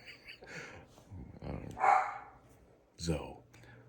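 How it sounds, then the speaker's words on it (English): A dog barks a few times in the background of a home, under a person speaking close to the microphone, the barks sharp and intermittent. "now I got a barking dog over here"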